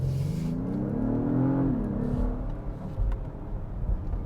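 An Acura MDX Type S engine heard from inside the cabin, a smooth rising rev that swells then drops on a downshift, followed by a lower steady drone under road rumble.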